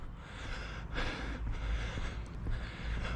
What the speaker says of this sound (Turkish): Kusura bakmayın nefes nefeseyim.